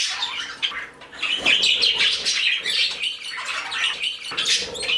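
A flock of pet canaries chirps and tweets close by in bright, busy bursts, with overlapping calls and a few louder squeaks throughout, and no talking.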